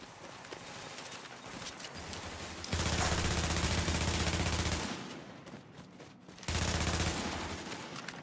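Dense automatic gunfire from The Division fills the scene in two long, loud sustained bursts separated by scattered single shots and quieter clatter.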